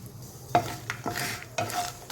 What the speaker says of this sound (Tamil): இதெல்லாம் கொஞ்சம் வாசனை வர வரைக்கும் கொஞ்சம் கலர் மாற வரைக்கும் வறுத்துக்கணும்